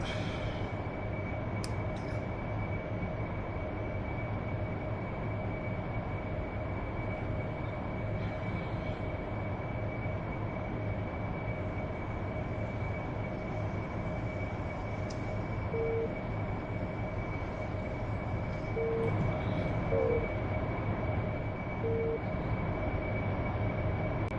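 A train running in the flight simulator DCS World gives a steady, continuous rumbling drone with a constant mechanical hum, holding at an even level throughout with no voices.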